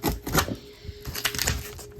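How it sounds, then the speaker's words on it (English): A dull screwdriver prying open a cardboard box, making a close series of short scraping, tapping clicks in an uneven rhythm with no talking. "And of course I'm doing it with a very dull screwdriver."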